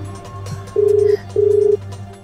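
A telephone call is placed to an aunt, producing two long, even ringback beeps with a short gap between them, clear and close over a faint background hum.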